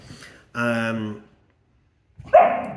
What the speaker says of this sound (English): it's my dog woofing